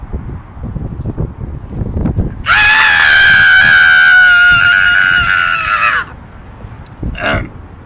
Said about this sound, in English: I will scream for you as loud as I can outside of the van so you can hear